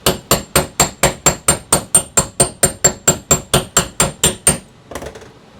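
A remelted gold bar made from old jewelry is struck with a hammer in a fast, even run of about eighteen sharp, ringing metallic blows, loud and close, then a softer final knock and a short rattle.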